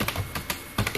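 Quick keystrokes on a computer keyboard while typing in MS Word, a handful of close, crisp clicks in an uneven rhythm within about a second, with no talk.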